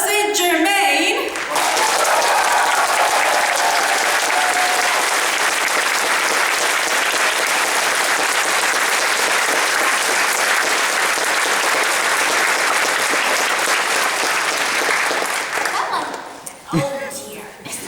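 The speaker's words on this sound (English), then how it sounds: "Welcome them all with a great big applause." A convention audience at a fan Q&A panel welcomes the guests with loud, dense applause that runs steadily for most of the clip before tapering off at the end.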